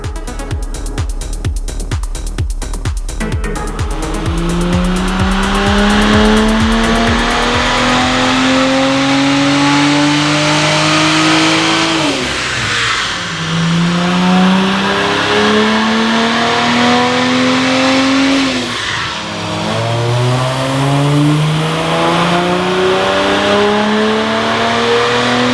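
A Kia Stinger on a dyno during a tuning run, its engine revving loud and close in long rising sweeps, climbing steadily, dropping sharply and climbing again through repeated pulls with no one talking.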